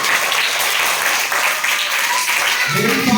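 A class of students from grades one to eight applauds together, a dense steady clapping that fills the room for a few seconds without pause.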